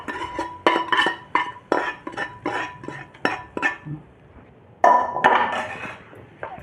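A spoon mixes appam batter with an added spice tempering in a bowl, making a run of sharp, close clinks and scrapes in an uneven rhythm. The clinks pause briefly, then start again.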